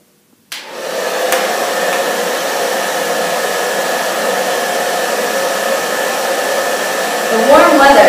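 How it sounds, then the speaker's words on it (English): A hair dryer switches on and blows with a steady, loud whirring roar that holds constant, with a brief shift in pitch near the end. "this hairdryer represents the warm weather"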